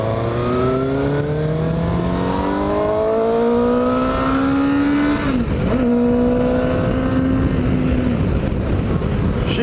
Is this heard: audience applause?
no